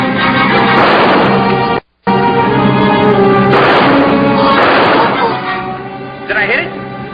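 Gunshots are fired at creatures in the bushes at night: several loud, booming reports ring out in quick succession with a short gap between, while voices shout over and between the blasts.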